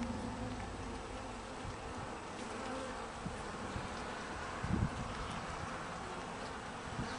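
Carniolan honeybees in an opened hive give off a steady, close buzzing drone, with soft rustles and brief knocks and no voices.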